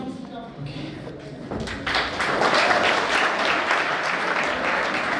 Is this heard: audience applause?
yes